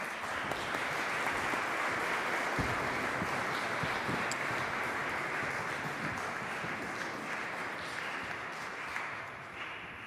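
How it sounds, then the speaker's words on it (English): An audience at an international architecture award ceremony for buildings claps for a winner, a sustained wash of dense applause from a crowd that stays steady, then gradually thins and fades toward the end, with no talking over it. "A round of applause for Claire."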